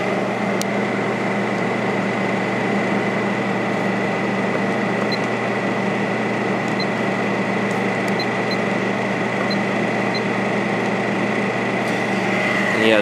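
A Coronado 5,000 BTU window air conditioner runs its fan on low speed, producing a loud, steady motor hum and airy whoosh that holds evenly throughout, with a few faint clicks.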